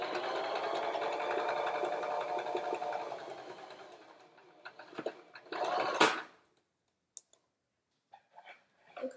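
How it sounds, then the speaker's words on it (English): A sewing machine stitches fabric in a quiet home setting with a steady whirring run, then slows and stops, followed by a few scattered clicks and handling noises. "I'm just going to stitch down to where this pin is"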